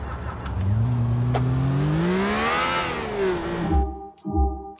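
Car engine revving steadily upward in Grand Theft Auto 4, pitch climbing to a peak then easing off before a few low thuds and cut-offs near the end; loud, close and alone, with no talk.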